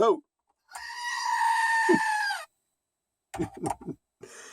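A goat bleats loudly and close in a long wavering cry outdoors at a dry camp in New Mexico, followed by a brief low grunt, with other animal-like calls or voices heard afterward.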